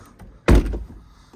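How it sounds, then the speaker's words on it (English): Door of a 2018 Porsche 718 Boxster closing from inside, a single solid, deep thunk with a brief low resonance, alone and close. "And when you get on inside and close the door,"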